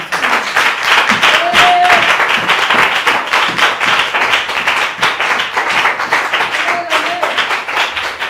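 A church congregation applauds steadily and loudly for the Lord Jesus, a dense continuous wash of clapping with scattered shouts and cheers throughout.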